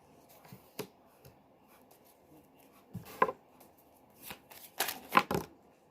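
A deck of tarot cards is shuffled up close in soft bursts of riffling and slapping, quiet at first and then building to a few louder flurries near the end.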